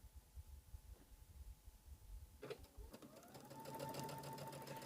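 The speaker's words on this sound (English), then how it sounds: "we're going to use that same 1/4 inch seam and sew these two rows together" A sewing machine stitches two rows of quilt fabric together for a floral wall hanging, starting with a few faint clicks and then running in a steady, close mechanical whir that builds slightly, with no talk.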